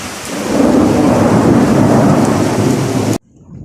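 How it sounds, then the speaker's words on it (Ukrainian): Heavy rain roars steadily with deep rumbling thunder underneath, loud and close, then cuts off abruptly near the end to a faint quiet. "Десь гримить і йде дощ."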